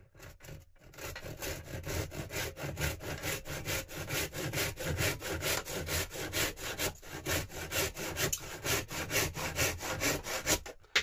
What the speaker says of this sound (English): we can then sand it up on our disc sander